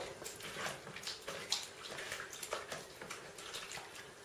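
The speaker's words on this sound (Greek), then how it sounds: "Διαλύουμε τη μαγιά." Yeast is stirred and dissolved in anise-flavoured water in a bowl while making a traditional Andros bread, giving faint, soft sloshing and trickling water sounds that continue steadily, with no talking.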